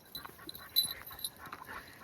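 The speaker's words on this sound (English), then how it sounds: "That's a happy dog." A happy, muddy dog whimpers and yips in short, faint, high-pitched bursts, scattered irregularly over two seconds against a quiet background.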